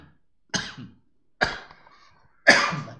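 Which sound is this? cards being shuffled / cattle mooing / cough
cough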